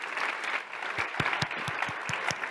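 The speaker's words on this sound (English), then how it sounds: "we'll have another round of applause for" Conference audience applause in a higher-education session, a brief patter of claps with a few sharp, distinct hand claps standing out near the front, continuous and moderately loud with no speech on top.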